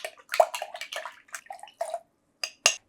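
Liquid sloshing and splashing in short bursts as a vinegar and witch hazel ear wash solution is stirred and mixed in a small container, close and crisp with brief pauses between swirls.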